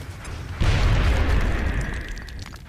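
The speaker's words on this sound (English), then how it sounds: "Throwing grenade." A grenade blast in the turn-based strategy game X-COM: Enemy Unknown, a single loud boom that rumbles and fades over a couple of seconds, with no talking.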